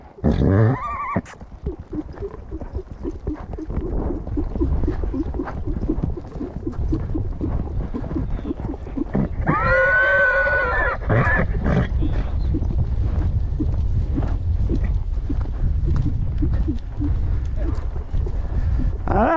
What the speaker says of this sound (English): My stallion's gonna buck me off before I get a shot.